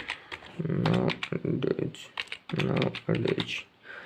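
Fingers type HTML code on a computer keyboard, making close, quick clusters of plastic key clicks in uneven bursts with short pauses between.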